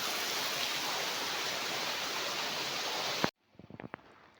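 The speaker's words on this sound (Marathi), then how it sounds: "कसलं पाऊस सुरू झालो हा." Heavy rain pours steadily in the Konkan countryside near farm fields, a dense, loud, continuous hiss that cuts off abruptly and leaves a few faint knocks and taps.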